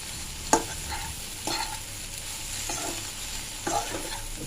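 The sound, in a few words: stirring and frying masala dosa filling in a pan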